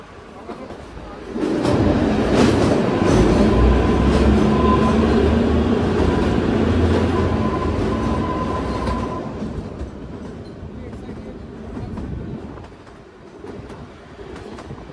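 The Kalka–Shimla toy train rolls around a mountain curve in a steady, loud rumble of wheels on rails with faint squeal and clatter, then fades toward the end; a voice talks faintly underneath.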